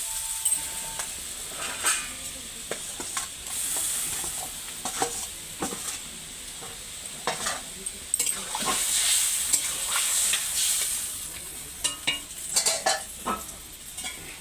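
Eggplant and mrigal fish frying in a pan, a steady close sizzle with scattered clinks and scrapes of a utensil stirring and turning the pieces throughout, no talking.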